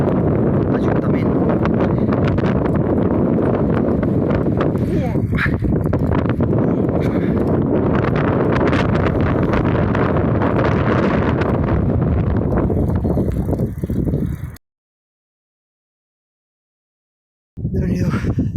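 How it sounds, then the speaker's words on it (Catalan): Strong wind buffets the microphone of a cyclist riding uphill, a loud, constant roar and rumble that cuts out briefly near the end and then returns. "com m'apreta el vent."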